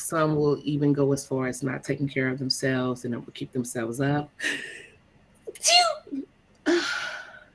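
A single sharp sneeze bursts out right after a stretch of steady talking, followed by a couple of breathy gasps or sniffs, close to the microphone.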